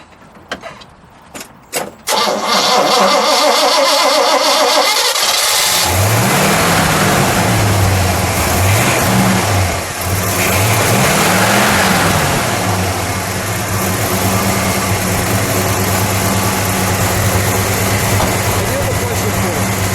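A 1968 Pontiac GTO coupe's engine cranks with a few clicks, then fires up loud and close, blipping through several rising and falling revs over a rough, steady idle that runs to the end.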